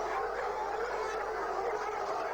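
Trained dogs bark and howl together as playback from a video, a dense, steady wash of canine voices filling the whole stretch without a break.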